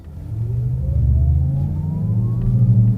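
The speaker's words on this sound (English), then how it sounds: "I'm now going to put on the additional sound mode, which is called Electric Sport On. That now gives you almost like a sub-rumble sound." A Porsche Taycan electric car running its Electric Sport sound mode gives a steady, loud synthetic sub-rumble with a rising whine layered on top, sustained throughout with no talk.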